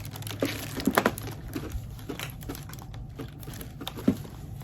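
Plastic bag handled and crinkled at a table during a stitching session, with light rustling and a few sharper crackles scattered through, close and fairly quiet, with no one talking.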